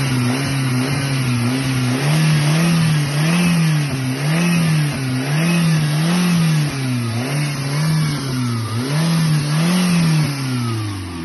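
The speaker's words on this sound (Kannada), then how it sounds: "ಇನ್ನು ಈ ಗಾಡಿದ್ದು ಇಂಜಿನ್ ಸೌಂಡ್ ಒಂದು ವೀಡಿಯೋ ಕಳಿಸಿದ್ರೆ ವೀಕ್ಷಕರೇ, ಅದೊಂದು ಸ್ವಲ್ಪ ವೀಡಿಯೋ ಪ್ಲೇ ಮಾಡ್ತೀನಿ" A Chevrolet Spark car engine runs loud and close, its steady hum rising and falling in a regular series of revs over about eleven seconds, with no voices.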